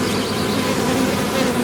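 A dense, steady drone of many honey bees buzzing together in a hive, loud and close, with no pauses or voices.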